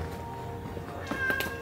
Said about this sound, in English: the cat's right in there